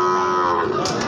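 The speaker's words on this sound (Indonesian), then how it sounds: "Oh, ini harga 11 jutaan nih, teman-teman. Sapi PO." A PO cow at a cattle market in Tuban, East Java, gives one loud, close moo that lasts the whole short moment, with a faint hiss near the end.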